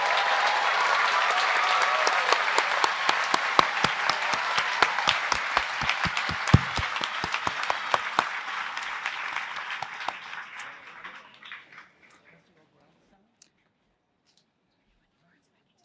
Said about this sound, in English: One more round of applause for the graduates with the Bachelor of Science.